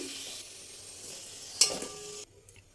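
Potatoes frying in hot oil until reddish, alongside katla fish, a faint continuous sizzle with one brief clatter and stir near the middle before the sound cuts off short.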